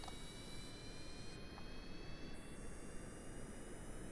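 A rocket engine roaring at full throttle in Kerbal Space Program, a steady, dense broadband roar with no breaks and no talking, moderately loud and unchanging throughout.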